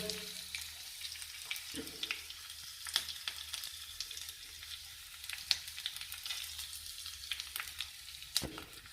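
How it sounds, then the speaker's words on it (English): Garlic and chilies frying in hot oil for a banana stem yogurt dish, a steady low sizzle with scattered sharp crackles and pops throughout, no voices. "Then I take this garlic and chilies and put it in there"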